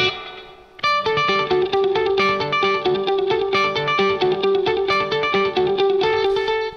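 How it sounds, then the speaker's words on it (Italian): Electric guitar played through a TC Electronic Sky Surfer reverb pedal rings out in a steady run of picked notes, each note washing into a long, shimmering reverb tail that fills the space. "Aggiungo il riverbero."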